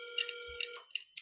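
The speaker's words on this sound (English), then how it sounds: "Somebody's phone is ringing right now." A phone ringing during an online call, a short faint electronic trill in a few quick bursts over a steady tone.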